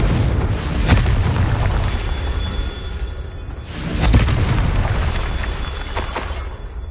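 A Confringo blasting spell in Hogwarts Legacy on PS5 bursts as deep booming explosions, two loud blasts a few seconds apart over a rumbling, crackling game background.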